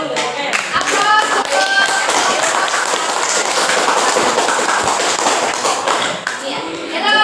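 A group of students claps in a classroom, producing a sustained burst of dense, loud applause that tapers off near the end, with voices mixed in.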